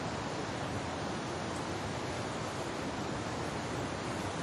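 A mountain river in the Chegem area rushes past in a steady, broad roar of water that stays even throughout and is fairly soft, with no voices.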